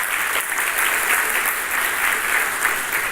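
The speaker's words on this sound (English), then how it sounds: "Let's extend also a round of applause to Bill Flanagan." Conference audience at a cybersecurity event applauds in a steady, dense wash of clapping that holds at an even level the whole time, with no speech over it.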